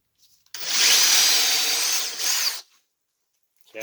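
A power drill bores a hole into a wooden form in one loud, close burst of about two seconds, grinding and whirring as the bit chews through the wood, then stops and a brief second start follows.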